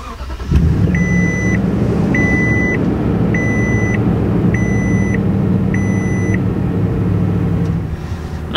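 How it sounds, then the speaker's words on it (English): A 2020 Toyota Tundra TRD Pro truck starts by push button: a quick crank catches into a deep, rumbling idle that holds steady, while a chime beeps five times in a regular pattern over the engine. "Now after you finish enjoying the burly startup"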